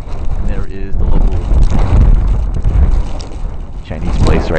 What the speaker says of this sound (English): the wind is gusting. It has to be 30, 40 mile an hour winds right now.